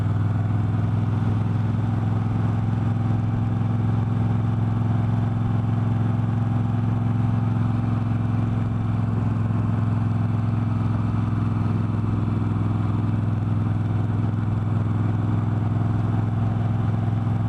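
A V7III Carbon Shine motorcycle cruises steadily on a road, its engine a loud, constant low drone with rumbling wind and road noise and no change in pace for the whole stretch.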